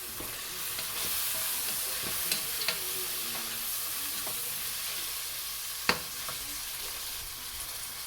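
Chopped tomato is tipped into carrots sautéing in a chicken biryani pan, bringing a steady close sizzle with stirring strokes and a few sharp knocks of the spoon against the pan.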